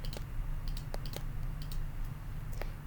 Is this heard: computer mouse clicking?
yes